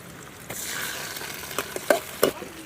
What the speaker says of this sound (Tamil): சோத்து கத்தாழை நல்ல எண்ணெயிலே வணங்க வேணும்